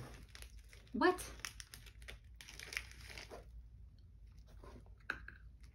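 Crunchy lemon candy being chewed up close, a sharp crackly bite followed by softer crunching, with a voice speaking over it.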